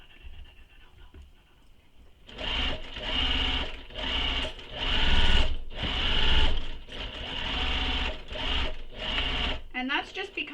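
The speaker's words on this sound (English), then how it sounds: "I like to back stitch in those corners just for some extra security" A sewing machine back-stitches the corners of a backpack after a quiet start, running in a series of loud, close bursts with short breaks between them, ending with someone speaking.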